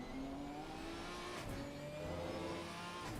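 A McLaren GT4 race car in a Spa racing video game accelerates out of a corner, its engine a steady, loud, continuous drone with rising pitch throughout.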